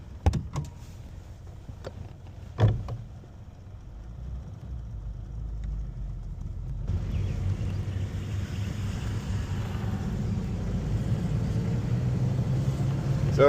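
A vintage American luxury car with a very quiet engine drives along, a steady low rumble of engine and road noise building after a couple of sharp clicks at the start, with the window down and no talking.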